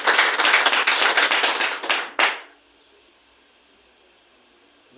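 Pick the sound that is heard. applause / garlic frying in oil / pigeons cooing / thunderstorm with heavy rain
applause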